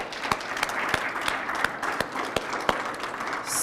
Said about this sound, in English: I want you guys to give yourself a round of applause again